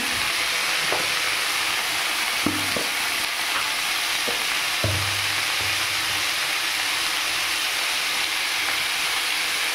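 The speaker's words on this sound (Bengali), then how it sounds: "এখানে গাঠিটা ভেজে নিচ্ছি।" Hilsa fish gathi pieces fry in hot oil in a pan, a steady loud sizzling hiss with a few low knocks and scrapes from the spatula along the way.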